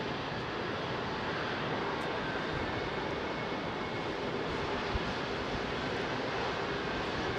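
Heavy jet departure at London Heathrow, an Airbus A380 climbing out with a broad, continuous engine roar that holds steady and loud with no voices.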